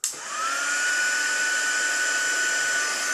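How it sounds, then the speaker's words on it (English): A heat embossing tool switches on with a click and blows a steady, high-pitched whirring stream of hot air, close and constant, with no voices. "sorry about the noise of this, my pink embossing tool"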